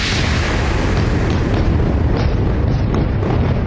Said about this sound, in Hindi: इजरायली वायुसेना ऐसे तबाही बम फोड़ रही है जिसका एक धमाका बड़ी तबाही मचा रहा है।